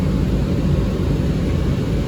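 Air conditioner compressor running as a steady, dense broadband hum and rush with a low rumble, constant and close for the whole stretch.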